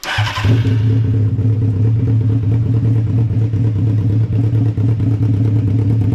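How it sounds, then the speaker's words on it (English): Honda CBR 600 motorcycle engine fitted in a custom golf cart, idling cold and slightly lopey with a steady low rumble and mechanical clatter, loud and close, starting abruptly and running evenly without talk. "A little lopey when it's cold, but you'll be able to tell it'll warm up a little bit, and the idle will come up."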